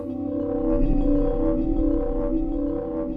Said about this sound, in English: Huge amounts of reverb and delay.